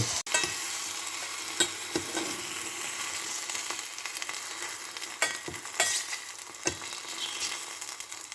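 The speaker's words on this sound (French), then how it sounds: "n'hésitez pas à remuer quand même de temps en temps pour que la cuisson soit bien homogène" Velvet shank mushrooms frying in a pan make a continuous sizzle, broken by sharp scrapes and clicks as a utensil stirs them at irregular intervals.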